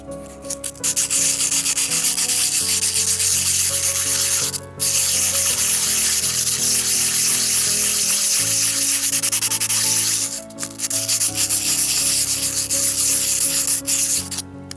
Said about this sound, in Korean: 그러면 샌딩 작업을 할게요.